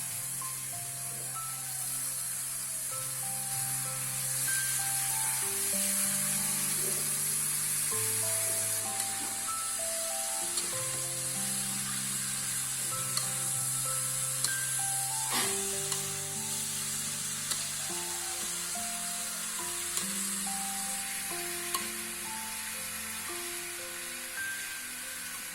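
Chopped papaya sizzles and fries steadily in a pan of hot oil, a continuous close hiss with occasional stirring scrapes, while background music plays throughout.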